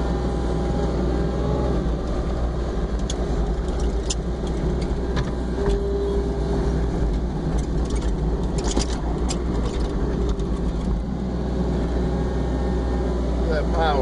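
An excavator fitted with an AMULET XBoom coupler and a 44-inch bucket works loading snow, its engine droning steadily and loudly throughout with faint clanks, while someone talks over it.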